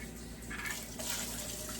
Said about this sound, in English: I just kind of keep rinsing until I see no more soap bubbles